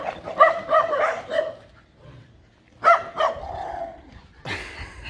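Dogs bark in sharp, excited bursts while chasing tigers outdoors, with two clusters of loud, close yaps separated by a brief lull and some fainter yipping at the end.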